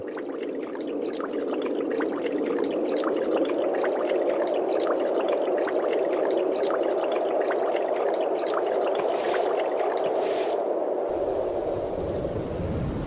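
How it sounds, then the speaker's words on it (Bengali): Rain begins over a river around a broken fishing boat, a steady, even hiss of falling water that holds for the whole stretch, with a brief brighter spatter shortly before the end. "এই রে, বলতে না বলতে দেখছি বৃষ্টি চলে এসেছে"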